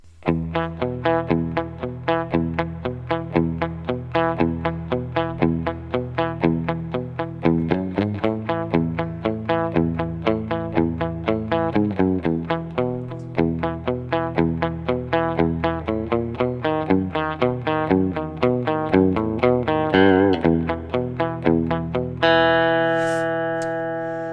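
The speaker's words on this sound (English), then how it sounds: "It's essentially just a banjo roll, picking out the different chords" Guitar picking a banjo-roll train beat through the chords of a song's verse, a fast, even stream of plucked notes with thumping bass, ending on a ringing strum.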